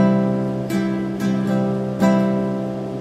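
A guitar chord rings out and is re-strummed a few times in a down-up pattern, bright strums over sustained notes, close and alone.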